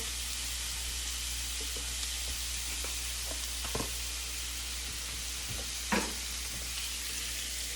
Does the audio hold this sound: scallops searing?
yes